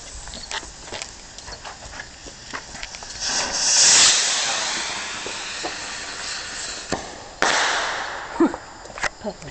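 A midnight firework rocket launches with a rising hiss that swells and fades around four seconds, then a sharp crack and a second fizz near seven and a half seconds, outdoors and moderately distant.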